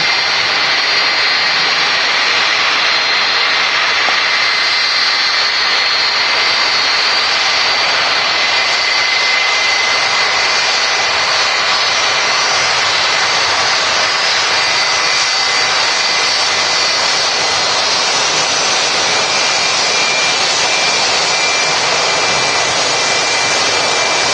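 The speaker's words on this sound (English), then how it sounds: "The Emirates A380 holding, or going nice and slow to make space for the 757." An Emirates Airbus A380 taxis slowly at Manchester Airport, its jet engines making a loud, steady, high whining roar that holds unbroken throughout with no voices.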